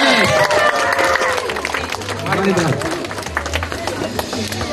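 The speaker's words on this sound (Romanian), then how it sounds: "Dar trebuie să aplaudați!" Children and adults clapping at an outdoor kids' event in a children's town, a dense crowd applause mixed with cheering voices, chatter and a loud voice over the top.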